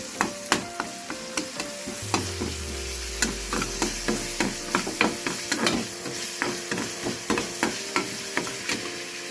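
Ginger garlic paste sizzles and spits in a hot pan while a ladle stirs and scrapes it in a steady rhythm of knocks, all close and fairly loud with no talking.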